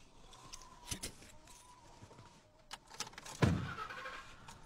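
Someone getting into a car at night: a door clunk and rustling movement, then a louder thump of the door closing, with quiet handling noises around it.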